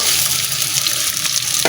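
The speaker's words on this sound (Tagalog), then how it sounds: "Halo-haluin mo ng maigi" Food frying in a pan is stirred, producing a loud, continuous sizzle with scraping and spattering close by, with no voices.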